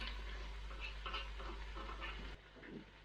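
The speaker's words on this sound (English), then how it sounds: "Okay, now add some tomato paste. And we'll just quickly cook that through." Tomato paste cooking in a pan, a faint steady sizzle with soft stirring scrapes, quiet and close, dropping lower partway through.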